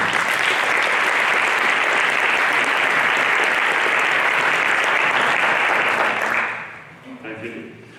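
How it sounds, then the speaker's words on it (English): An audience applauds a panel at a publishing event, with loud sustained clapping for about six seconds that then tapers off quickly, leaving a brief voice at the end. "So please give a round of applause for our fantastic panel."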